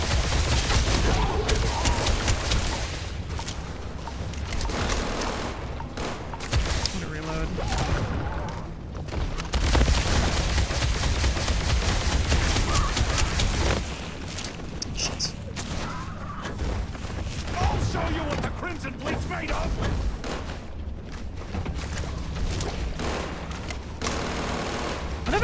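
Rapid bursts of automatic gunfire and booming shots from a Starfield firefight, loud and nearly continuous with brief lulls, with occasional voices underneath.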